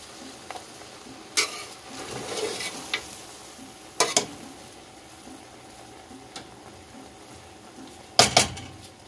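A spoon gently turns Punjabi mutton pulao in a pot, soft scraping and occasional louder clinks against the pot's side every few seconds, close and quiet over a low background hum.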